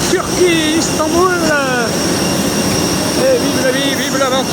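A steady, loud roar fills the cabin of a Pegasus jet airliner flying out of Istanbul, continuing without a break as someone talks in French over it.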